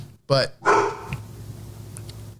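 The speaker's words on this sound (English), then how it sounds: "that's our dog." A dog barks twice nearby, loud and sharp, with a brief yip afterward, while a voice talks briefly around the barks.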